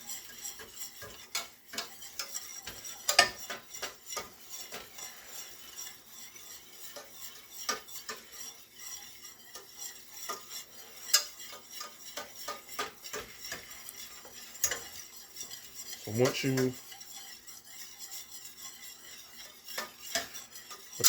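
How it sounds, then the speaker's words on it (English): Flour cooks in a pot for smothered turkey wings, stirred with a utensil that scrapes and clicks against the metal in irregular strokes, with a faint sizzle underneath and one louder knock partway through; nobody speaks. "You're basically cooking the flour."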